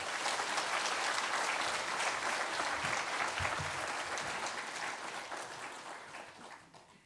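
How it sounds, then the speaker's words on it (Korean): A church congregation at a Sunday worship service applauds to welcome the pastor, dense sustained clapping from many hands that fades toward the end. "사랑과 격려의 마음을 담아 큰 박수로 맞아주시기 바랍니다"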